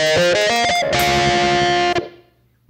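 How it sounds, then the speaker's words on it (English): A heavily distorted electric guitar through a Digitech RP80 pedal's high-gain tube amp simulation plays a few quick notes, then holds a saturated chord that rings out and cuts off. "We have a high gain tube amp"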